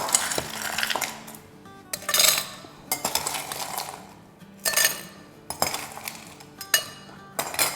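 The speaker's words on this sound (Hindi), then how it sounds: "तो ये ग्लास लेते हैं और इसमें डालेंगे आइस" Ice cubes dropped into a glass while preparing a cold summer drink, bright clinks and rattles in several separate bursts, close and clear with no talking.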